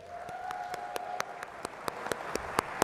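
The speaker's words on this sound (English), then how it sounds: "Jack Monkey, round of applause, everybody." Audience at a DragonCon late-night comedy show clapping in a fairly regular, sparse rhythm over a steady room hum and a faint lingering tone, with no one talking.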